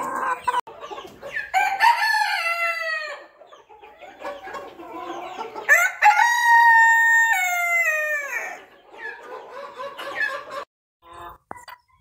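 A rooster crows several times, loud and close, with long drawn-out calls separated by short clucks and pauses.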